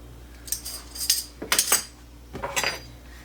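A metal spoon clinks and scrapes against a pot while adding a third spoonful of pectin to a jam mixture, several short bright knocks in quick bursts, close with no voices.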